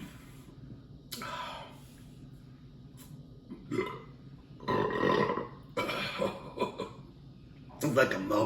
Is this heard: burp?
yes